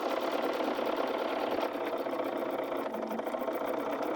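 Sewing machine stitching a quarter-inch quilt seam, a steady close mechanical whir running throughout with no talking.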